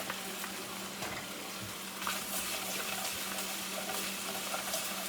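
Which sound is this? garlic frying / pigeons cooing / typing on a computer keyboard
garlic frying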